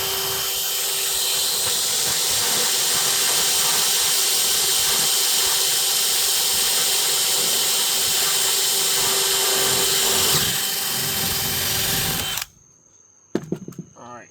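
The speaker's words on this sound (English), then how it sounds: "Let me drill this one." A power drill bores a bolt hole through a trailer floor during floorboard replacement. It runs at a loud, steady whine for about twelve seconds, then stops abruptly, followed by a few faint clanks.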